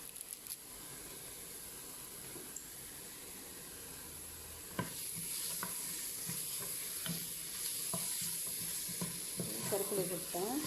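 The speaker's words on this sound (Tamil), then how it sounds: "Kita masukkan daun kari." Curry leaves hit hot oil in a pan of frying mutton varuval, giving a steady crackling sizzle that runs throughout with scattered pops and occasional scraping stirs close by.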